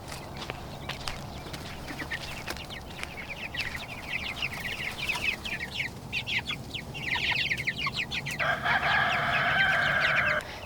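Meat chickens cluck steadily in a chicken tractor, a dense flock chatter of overlapping clucks and chirps throughout, growing louder toward the end with a sustained squawk, close and with no talking.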